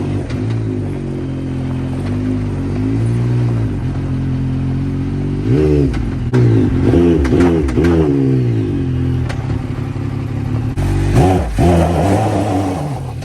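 A 2017 Ram Mega Cab Laramie pickup with a Cummins diesel revs and drives close by, its loud engine note rising and falling in several surging pulls over a steady rumbling idle.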